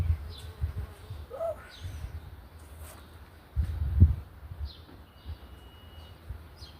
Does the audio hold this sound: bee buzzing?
yes